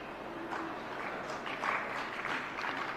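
A congregation claps during a Jain monk's religious discourse, a soft, thin smattering of applause that swells briefly in the middle, distant and faint in a reverberant hall.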